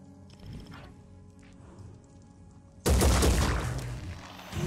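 Redeemer virus weapon firing in the video game Blood and Titanium, a quieter stretch with faint scattered noises and a brief murmur, then an abrupt loud burst of dense crackling fire that carries on to the end.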